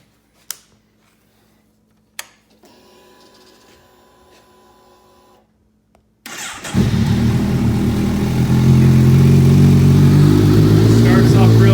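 A few clicks and a soft whirring, then a 2016 Kawasaki Versys 1000 with a cat delete pipe cranks, catches and settles into a loud, steady idle close by.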